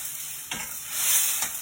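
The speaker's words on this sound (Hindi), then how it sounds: "अब एमे हम टमाटर के प्यूरी दे दी।" Tomato puree added to a hot pan with garam masala, a steady sizzling hiss with a couple of soft stirring scrapes, close and moderately loud.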